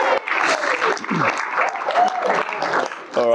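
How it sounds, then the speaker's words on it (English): Wedding guests applaud at a reception, a dense burst of clapping from a sizeable crowd that carries on steadily for a few seconds while a voice speaks over it. "Keep the applause going for Alf and Scott."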